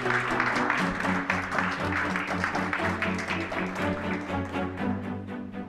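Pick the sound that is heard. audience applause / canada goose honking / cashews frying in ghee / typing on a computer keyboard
audience applause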